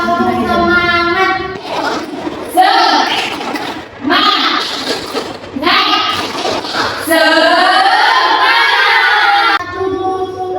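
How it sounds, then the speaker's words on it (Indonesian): Children shout out a 'tepuk semangat' clapping chant in rhythmic bursts, loud and close, their voices alternating with claps and a teacher's voice. "Satu, dua tepukan yaitu tepuk semangat"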